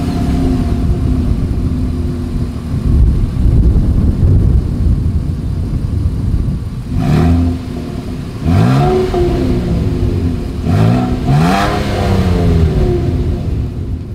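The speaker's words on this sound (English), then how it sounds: "As always, here is that exhaust clip." A 2023 Nissan Frontier SV pickup's engine revs repeatedly through its exhaust, a steady idle rumble broken by several sharp rising and falling blips, loud and close.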